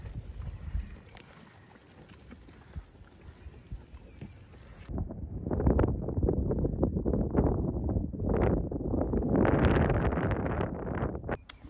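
Cold wind gusts buffet the microphone outdoors in March, rough and loud in uneven surges, growing stronger and more turbulent in the second half, with no talking.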